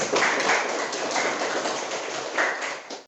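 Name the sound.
class applause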